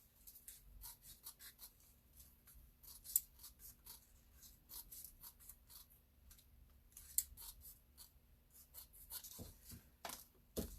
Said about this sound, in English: Cutting glitter should sharpen scissors too, I would think.